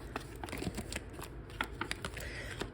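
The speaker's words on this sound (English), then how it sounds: "Let me shuffle the cards." A tarot card deck is shuffled by hand, giving a soft continuous riffle of papery flicks and taps at close range, fairly quiet and steady.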